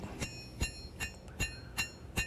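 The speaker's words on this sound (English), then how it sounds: "I'm hammering more to the middle of the blade, not trying to thin the edge too much." Hand forging a large steel knife blade, with six sharp hammer strikes on the metal at an even pace. Each blow rings briefly. They are close and moderately loud over a faint background hum.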